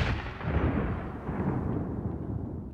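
A deep, rumbling blast that rolls on for a couple of seconds, loud and booming with a long low-pitched roar.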